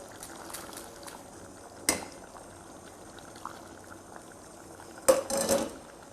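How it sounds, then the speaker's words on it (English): Stock for pumpkin risotto boils in a pot with a steady soft bubbling close by, punctuated by a few sharp clinks of utensils against the pan; no one speaks. "It's coming along nicely there, still boiling away"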